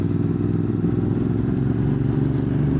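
A Honda X-Cape 1200 motorcycle engine runs steadily while riding, a loud, continuous low drone with a constant, even rumble and no talk.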